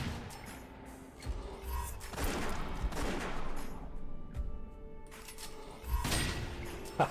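A farmer's shotgun fired in the game West of Dead, heavy booming blasts separated by a few seconds, each with a sharp crack and a lingering tail over the game's ambient sound.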